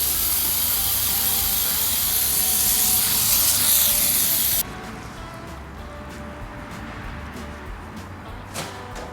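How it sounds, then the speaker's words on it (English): Foaming degreaser hisses loudly from a spray can onto a neglected tractor diesel engine in one continuous close burst for about four and a half seconds, then stops, leaving quiet workshop background with a faint click. "I hosed this down with some foaming degreaser"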